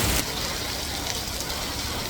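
Heavy storm rain pours down in Kanchanaburi, Thailand, a dense, steady hiss filling the whole stretch with no letup.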